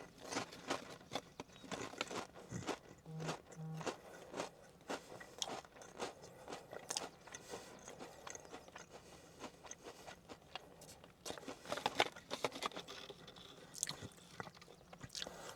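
Pringles Lite Grilled Beer Brat potato chips get chewed close up, with soft, irregular crunches and mouth sounds, quiet and unaccompanied by speech.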